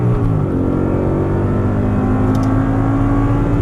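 An Audi R8 on a Las Vegas track accelerates hard through an upshift, its engine note loud, close and continuous with rising tonal pitch throughout.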